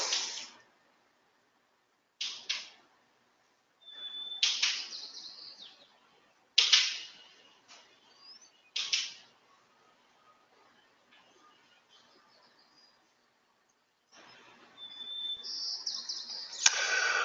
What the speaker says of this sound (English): you got birds outside